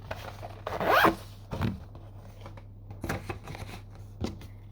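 Crinkly plastic wrapper of a strawberry Mentos mini candy pack being torn and rustled open, a loud burst of crackling followed by softer intermittent rustles, close by with no talking.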